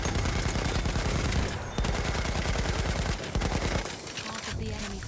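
Rapid sustained machine gun fire in the Battlefield 1 video game, dense close bursts of automatic shots with brief gaps, surrounded by other distant gunfire and battle noise.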